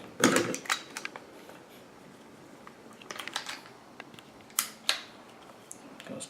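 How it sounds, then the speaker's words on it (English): A Finnish Lahti L35 pistol is put back together, producing crisp metallic clicks and clacks of parts seating and the bolt accelerator engaging, several sharp snaps close by and spread over six seconds. "Goes together pretty easy. That's the bolt accelerator hitching there, like it should."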